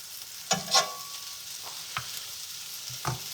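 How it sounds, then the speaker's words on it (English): Pork medallions hand-fried in butter and olive oil in a pan, a low sizzle broken by several sharp stirring and turning scrapes, close up and without talk. "We're basically like hand frying these. I can already tell I need more butter"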